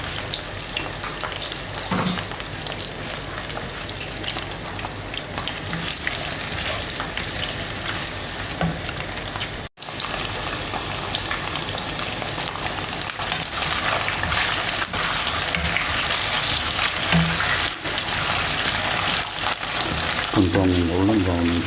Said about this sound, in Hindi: चिकन मंचूरियन बनाने के लिए सबसे पहले हम चिकन को करेंगे फ्राई।